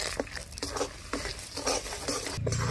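Caramelized sugar is stirred in a pan for a sweet winter pitha, giving soft intermittent scraping strokes over a faint steady sizzle, close and moderately quiet, with a brief sharper clatter near the end.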